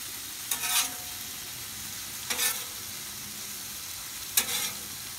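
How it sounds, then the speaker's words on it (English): Precooked ham and turkey warming on a Blackstone flat-top griddle, a steady soft sizzle under three brief louder scraping bursts of a spatula, close and without talk. "This ham and turkey's already cooked. We're just kind of warming it up."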